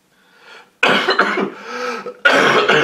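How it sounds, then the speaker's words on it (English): A person coughs hard several times in close succession, harsh raspy bursts separated by brief pauses, loud and near. "This coughing is not leaving me."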